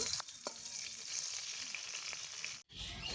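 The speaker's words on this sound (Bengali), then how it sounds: "এখন আমি সমস্ত উপকরণ হালকা বাদামি রং করে ভেজে নেব" Whole spices with dried red chillies and split green chillies sizzle in hot oil in a pan for a matar paneer tempering, a steady close hiss with a brief dip near the end.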